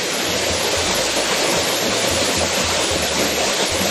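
Steady, loud rushing water roars continuously, a dense broadband wash with no breaks, from Wongak Falls on Sapaesan in Bukhansan National Park in summer.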